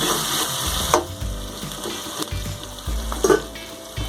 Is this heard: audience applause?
no